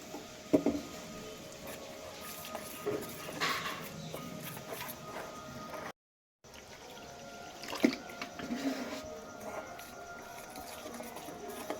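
Water is poured a little at a time into maida flour to make batter for papad, with close, intermittent splashing and trickling bursts and a brief silent gap partway through.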